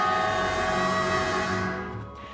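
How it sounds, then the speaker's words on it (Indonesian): A KRL Tokyo 8500 commuter train pulls into a station, its steady, loud tonal hum and rumble holding close before fading toward the end. "ini dia KRL Tokyo dia datang"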